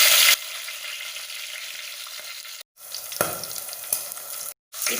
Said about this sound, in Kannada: ಇತ್ತೆ ಎಣ್ಣೆ ಎಡ್ಡೆ ಬೆಚ್ಚ ಆತಂಡು ಐಕ್ ಈ ಬೆಳ್ಳುಳ್ಳಿ ಬೊಕ್ಕ ಶುಂಠಿ ಬೊಕ್ಕ ಕಾಯಿ ಮೆಣಸು